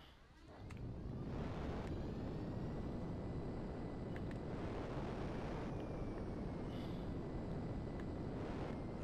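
A P-996 Lazer jet in GTA V Online roars steadily with a loud, broad rushing engine noise that stays constant throughout, with no speech.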